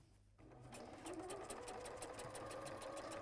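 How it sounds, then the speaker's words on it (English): Sewing machine stitching a gusset seam with a quarter-inch allowance, starting up after a brief pause into a steady fast mechanical whirring rhythm, close and fairly quiet. "And then sew down this side with your 1/4 of an inch seam allowance."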